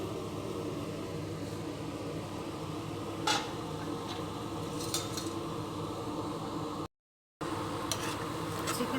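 A chicken pickle mixture with ginger-garlic paste in oil is stirred in a pot. Faint scraping and occasional light clinks of a utensil sit over a steady background hiss.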